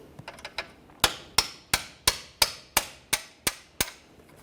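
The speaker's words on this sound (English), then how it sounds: "We'll continue on with a hammer and punch," Sharp metallic hammer blows on a punch driving through a bolt on a Nissan Altima's front axle ring out, a few light taps followed by about nine evenly spaced, firmer strikes.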